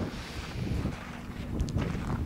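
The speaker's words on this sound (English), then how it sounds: "I don't know how the wind's gonna affect." Outdoor wind buffeting a microphone beside a lake in autumn, a steady low rumbling roar that stays fairly loud throughout with faint rustling on top.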